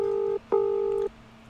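Two telephone dialing tones, a short beep followed by a longer one after a brief gap, steady and clear with nothing else over them.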